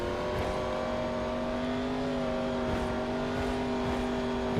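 A race car on a short track in Knoxville during a national tour event, its engine holding a steady, rising drone as it speeds up, loud and continuous with no voices.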